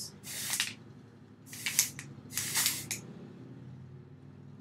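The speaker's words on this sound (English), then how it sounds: "Start with the volume powder, you shake it up, spray it at your roots." Three short hissing bursts of volume powder spray aimed at hair roots, close and crisp, each lasting under a second with brief pauses between.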